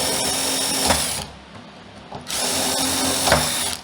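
A power drill bores latch holes in a jig, two short bursts of whirring drilling separated by a brief pause, close and clear with no talk.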